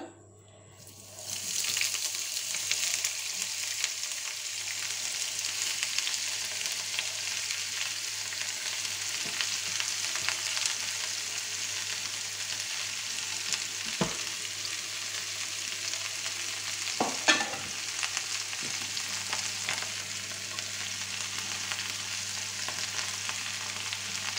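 Julienned vegetables hiss and sizzle loudly in a hot pan as they are stir-fried, a steady crackle that starts abruptly and continues, with occasional clinks of stirring.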